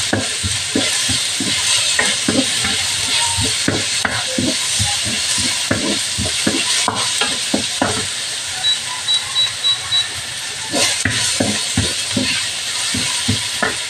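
Bitter gourd and shrimp sautéing in a hot pan, a steady sizzle and hiss running throughout with repeated scraping and stirring strokes close by; no one speaks.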